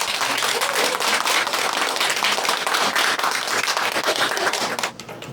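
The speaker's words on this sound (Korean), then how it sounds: "이 시간 우리 목사님께 환영하는 박수로" A church audience claps in welcome for a visiting pastor, loud dense applause that holds steady for about five seconds and then drops off abruptly.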